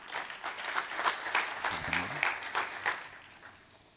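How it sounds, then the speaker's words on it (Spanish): Audience at an international therapy congress applauding a speaker after a panel introduction, a swelling round of clapping with distinct claps that gradually fades out toward the end. "Un aplauso, por favor."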